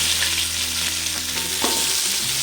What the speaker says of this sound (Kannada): ಈಗ ಏಲಕ್ಕಿ, ರಾಟಿ ಮೊಗ್ಗು, ಅನಾನಸ್ ಮೊಗ್ಗು, ಚಕ್ಕೆ, ಪಲಾವ್ ಎಲೆ ಇಷ್ಟನ್ನು ಒಗ್ಗರಣೆಗೆ ಹಾಕ್ಕೊಂಡು ಕಟ್ ಮಾಡ್ಕೊಂಡಿರೋ ಅಂಥ ಈರುಳ್ಳಿ ಸೇರ್ಸೋಣ.